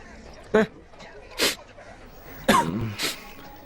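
Two loud sneezes from a cold, one early and one later, each followed by a smaller burst, with brief talking in between.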